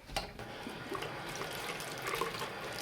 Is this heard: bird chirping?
no